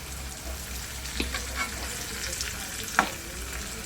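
Tomato added to a chicken masala frying in a pan, producing a steady moderate sizzle with a couple of brief stirring clinks, no speech.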